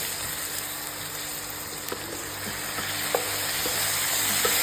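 Tomatoes frying in a pan for a fish curry make a continuous close sizzle, with a few light clicks and scrapes of stirring over it and no talking.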